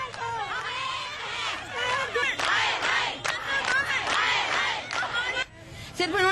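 Protesting workers chant slogans against the government, a crowd of many voices shouting together in loud, rising and falling bursts with a brief lull near the end.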